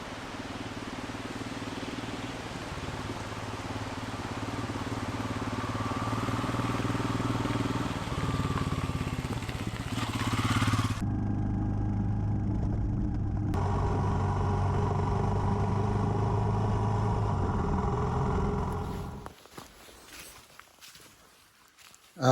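A Royal Enfield Himalayan motorcycle idles faintly at a steady pace while footsteps crunch nearby, and then the sound cuts off abruptly.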